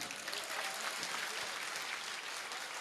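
An audience at a Hindi poetry recital applauds with dense, steady clapping that carries evenly through the moment, faint and distant.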